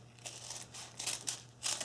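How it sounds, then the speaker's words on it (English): Scissors cutting straight across a sheet of rolled tart dough or paper sized to a pie tin, several short faint crisp snips and crinkles in a quiet kitchen. "Take my scissors,"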